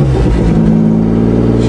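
A vehicle engine started on a cold winter day runs at a steady, loud idle close by, with a brief rise in revs at the start and no talking.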